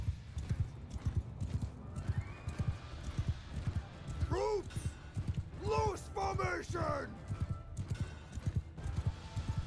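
In the Mount & Blade II: Bannerlord video game, horses gallop with rapid, rhythmic hoof clip-clops throughout and let out several loud neighs and whinnies midway, with a voice talking at times.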